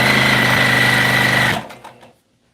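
Sewing machine stitching the folded hem on the front of a dress, a close, loud and steady motor whir that stops abruptly, followed by a few faint clicks.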